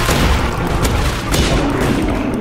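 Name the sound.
gunfire in a shooter video game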